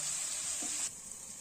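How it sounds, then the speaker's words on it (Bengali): Squash curry fries under a lid in a covered pan, giving a soft, steady hiss that drops away sharply near the end; quiet and close. "আমি এই ভাজা ভাজা করার প্রসেসটা একটু ঢাকা দিয়েই করছি"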